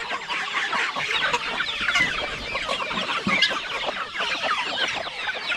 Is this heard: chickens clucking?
yes